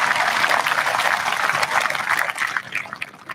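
Sustained applause from an audience at a Class of 2021 commencement ceremony, a dense even wash of many clapping hands that gradually thins and softens toward the end.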